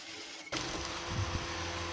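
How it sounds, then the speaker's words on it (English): Mini milling machine cutting a flat on one side of a small metal part: a steady, close mechanical whir begins abruptly after a brief quiet start and runs on evenly, with low rumbling cutter load throughout. "I'll machine flat on one side of it."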